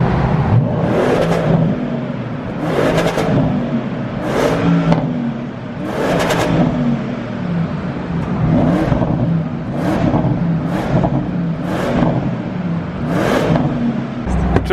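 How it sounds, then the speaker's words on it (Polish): A Porsche Panamera driving through a tunnel at night, its exhaust loud and close, repeatedly revving and surging in rhythmic waves with a booming, echoing roar. "Zobaczymy jak niesie się wydech i jego dźwięk tutaj w tym tunelu."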